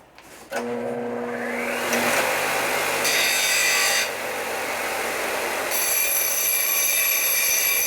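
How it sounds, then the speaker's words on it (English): A deburring grinder works on a part from a 1972 1000cc Harley-Davidson Sportster XLCH ironhead engine: a motor spins up, then a loud continuous grinding whine shifts in pitch as the metal is pressed against the wheel, close and alone. "Over to our deburring machine. Another grinder."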